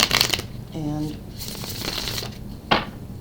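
Tarot cards are riffled and shuffled close up in brief papery bursts, with someone talking over and between them.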